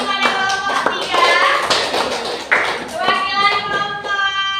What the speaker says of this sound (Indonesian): Oke, tepuk tangan kepada kelompok 3.